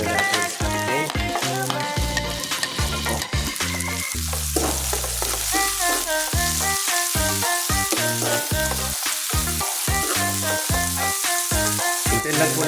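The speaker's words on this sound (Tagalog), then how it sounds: "ilagay na natin yung ating sibuyas at saka yung sili" Onions and chili sizzle and fry in a pan for a Filipino ginisang pechay dish, a continuous close hiss with occasional stirring, running under steady background music.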